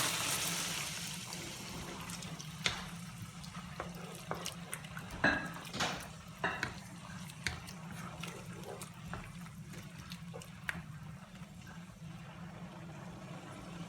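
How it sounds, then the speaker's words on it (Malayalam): Hot water poured from a cup into a pan while making chilli chicken, a soft splashing trickle with a few faint drips and clinks, steady and fairly quiet throughout. "ഒരു കപ്പ് ചൂടുവെള്ളം ഒഴിക്കാം കേട്ടോ നമുക്ക്"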